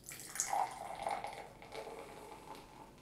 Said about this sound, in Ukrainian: До речі, можу наливати повний келих.